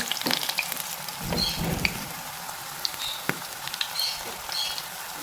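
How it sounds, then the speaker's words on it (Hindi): Spinach pakoras fry in oil in a kadhai, giving a steady crackling sizzle with scattered pops and a few louder bursts, heard alone with no talking. "तो ऐसे आराम आराम से डालते जाएंगे। हमारे मज़े मज़े के जो है पकोड़े वो तैयार हो रहे हैं"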